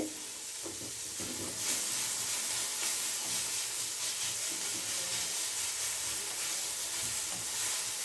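Ridge gourd thokku with tomatoes sautéing in a pan gives off a steady, close hiss of sizzling and steam that holds evenly throughout, with no voices.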